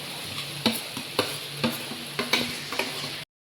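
Quiet sizzling of spices tempering in hot oil, broken by several sharp scraping clicks of a spoon stirring the pan at an uneven rhythm.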